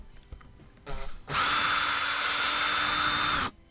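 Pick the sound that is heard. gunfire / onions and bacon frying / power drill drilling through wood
power drill drilling through wood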